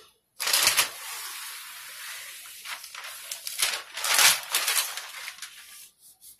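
Marble-pattern contact paper being smoothed onto kitchen cabinets, a continuous close-up papery rubbing and swishing with a few stronger sweeps, no talking.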